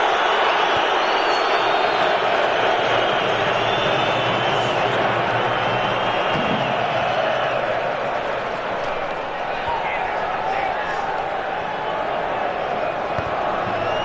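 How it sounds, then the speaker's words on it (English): A restless football stadium crowd at an England versus Croatia match rumbles as a broad, steady roar with murmuring and shouts, loud and continuous, while a commentator talks over it. "Crowd are getting restless now."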